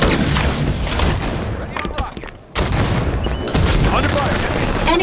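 Heavy gunfire bursts from a shotgun in a Halo 5 multiplayer match, loud and dense, with a brief lull before the firing resumes.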